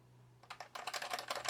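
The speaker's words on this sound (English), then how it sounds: "So this is the Apple design keyboard, which is basically a cheap, crappy, mass-produced keyboard that they put out with the bulk of their machines" Typing on an Apple Design rubber-dome keyboard connected to a first-generation PowerMac begins after a quiet moment, then a rapid, soft, muffled run of close keystrokes follows, with no talking.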